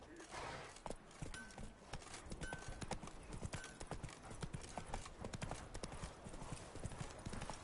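Hooves of the horse Roach clip-clop rapidly and steadily in The Witcher 3, a close galloping rhythm under faint game ambience.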